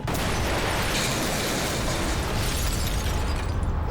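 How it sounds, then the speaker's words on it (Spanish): Explosions in Manhattan, used as a documentary sound effect: a dense, roaring blast of rumble and debris that holds loud and steady throughout, with no voices. "5 explosiones sacuden a Manhattan."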